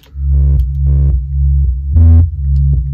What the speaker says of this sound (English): 808 style bass or anything that has hits in that sub range.